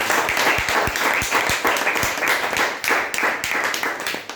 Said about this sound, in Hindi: इस कंपनी के CMD सर संजीव सर के लिए जबरदस्त तालियां